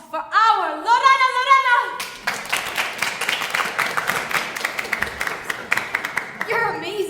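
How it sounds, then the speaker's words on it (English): Audience clapping at a live musical stage performance at IU, breaking into steady applause after a sung line and lasting several seconds, with a performer's voice heard before and after. "A round of applause for our Lorena!"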